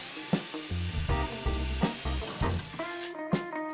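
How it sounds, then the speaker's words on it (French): A drill fitted with a thin metal bit bores into a hard plastic rain barrel, giving a close, high whine that stutters in short bursts with low knocking pulses, then cuts out near the end. "D'abord, nous prenons une fine mèche à métaux pour percer le plastique dur."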